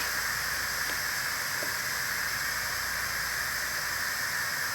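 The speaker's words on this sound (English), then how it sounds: "the steam just goes straight up instead of spewing all over the place" Steam hisses steadily from the vent of an Instant Pot Duo Nova 8 quart pressure cooker, a continuous broadband rush at even loudness with a couple of faint clicks.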